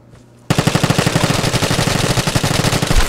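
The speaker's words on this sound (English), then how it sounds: "Oh, that's RPK. That's RPK." An RPK machine gun in the shooter game Vigor opens up after a brief quiet moment, firing a long, loud, rapid burst of evenly spaced shots for about two and a half seconds.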